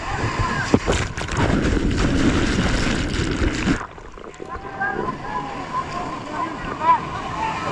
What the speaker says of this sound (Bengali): সমুদ্র বেসিক্যালি অনেক উত্তাল।